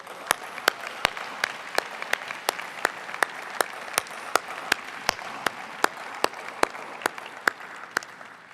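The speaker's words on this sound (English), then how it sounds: "Please give these valuable leaders a round of applause." An audience at a School of Medicine pre-commencement ceremony applauds, steady hall-wide clapping with one or two louder, evenly spaced nearby claps standing out throughout.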